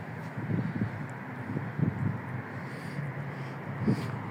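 Wind gusts past a rooftop swimming pool at the 2020 Tower in Bahrain at night, a steady rushing noise with buffeting on the microphone and some faint rustles. No one speaks.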